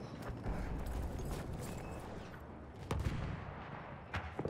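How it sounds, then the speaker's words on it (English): An enemy horse gallops past on a Battlefield 1 multiplayer battlefield, quick hoofbeats under a dense wash of distant gunfire and explosions. "Was that an enemy horse? That was. He ran by"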